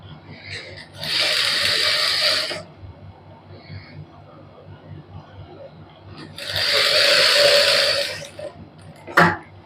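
An electric sewing machine stitches a lace-trimmed suit in two steady whirring bursts, close and fairly loud, with quiet pauses and handling noise between runs.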